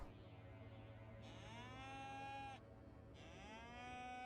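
Cow mooing in the video game The Senex Bird: two long, loud, drawn-out lowing calls one after the other, heard alone over a steady low background hum with no talk.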